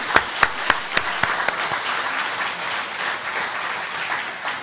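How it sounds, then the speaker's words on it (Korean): A church congregation gives a round of thanksgiving applause, a few crisp claps up front spreading into a dense, steady clatter of many hands. "감사의 박수를 드리겠습니다."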